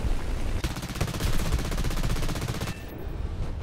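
Turret machine guns of the Hudson Mk V bomber in War Thunder firing one rapid, sustained burst of evenly spaced shots for about two seconds, then cutting off into engine drone.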